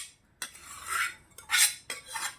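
A chole and potato mixture is dropped into a metal kadai and stirred for chaat. A spoon scrapes and clinks against the metal in three close, distinct bursts, with no voices.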